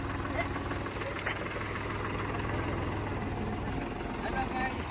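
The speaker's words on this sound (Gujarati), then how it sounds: "તમે જોઈ શકો છો અવાજ કેવો છે ટ્રેક્ટર જેવો" A diesel engine used to irrigate farmland runs with a tractor-like chugging rumble, steady and close throughout.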